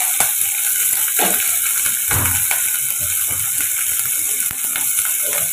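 Onions sautéing in a pan with cinnamon stick, bay leaf and spices for a one-pot rice dish, a steady close sizzle with occasional scraping stirs, no talking.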